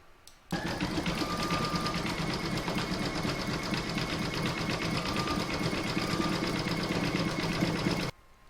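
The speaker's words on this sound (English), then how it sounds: "Now I'm going to pop that back into my machine and stitch round number 9, and that's going to zigzag the raw edges" A sewing machine running a zigzag stitch along raw fabric edges, a rapid steady mechanical whirring hum starting abruptly, running continuously for about seven and a half seconds, then stopping, close and alone.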